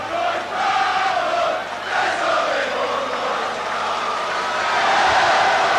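A rugby league cup match crowd at Leeds against Bradford roars and cheers in a broad, sustained wash of noise that swells and holds steady throughout, with no clear voices standing out.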